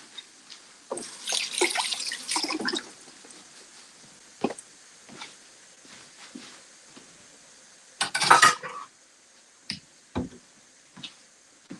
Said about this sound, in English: Hands need a quick rinse again.